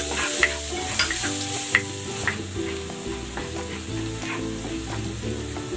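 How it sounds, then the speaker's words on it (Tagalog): Garlic sizzles and sautés in a hot pan for a bok choy vegetable dish, with steady frying crackle and a few stirring clinks under background music, with no talking. "Gigisa ko na tong bawang."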